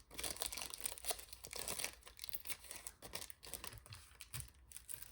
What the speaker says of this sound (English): let me just tear a little bit of the edge